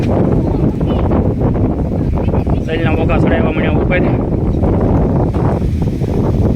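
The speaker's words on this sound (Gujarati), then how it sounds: "રહેલા પવન ને વરસાદ ને વાવાઝોડું કે એવું વાતાવરણ થઈ ગયું છે." Strong storm wind roars and buffets the microphone continuously, a loud rumbling rush, while someone speaks over it.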